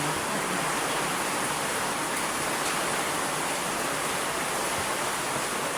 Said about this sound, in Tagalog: Malakas po ng ulan. May bagyo po ngayon.